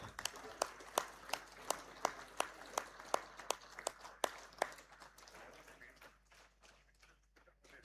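Audience at a bank retired employees' association gathering clapping, with strong rhythmic claps standing out over scattered applause that gradually thins and fades near the end, and a voice speaking underneath.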